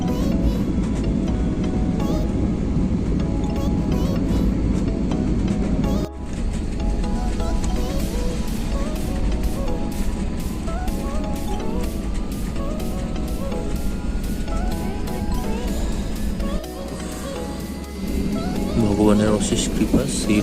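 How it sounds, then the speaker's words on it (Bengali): A steady, loud roar fills a passenger airplane cabin as it descends toward landing at Delhi, with a constant engine drone and a slowly rising tone, while a person talks over it throughout. "আস্তে আস্তে আমরা অলটিটিউড ড্রপ করে আরও নিচের দিকে যাচ্ছি মোস্ট প্রবলি সামনে ল্যান্ডিং করবে"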